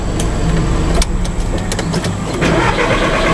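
Car engine cranking repeatedly as it tries to start, a loud, close, rhythmic starter churn with brief catches, on a car said to need a new engine because it would not start.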